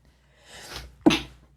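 One close, sharp human sneeze, preceded by a brief breathy inhale, then quiet with no talking.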